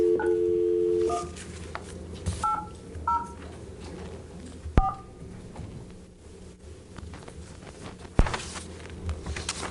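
Telephone keypad tones beep in a quick series of short dialing pulses as a cell phone number is dialed in a council meeting room, with faint footsteps and room noise following.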